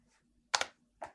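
A few quick, crisp computer keyboard keystrokes, a pair of close clicks and then one more press, are heard while entering input for a C# program being debugged.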